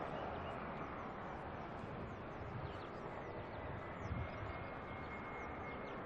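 A Boeing 787 Dreamliner departing Auckland airport sends a faint, distant jet rumble across the whole stretch, steady and hollow, with a slight swell near the end.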